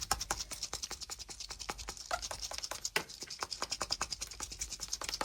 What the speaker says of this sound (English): there is that slight knock and the sound of small bits in a clamshell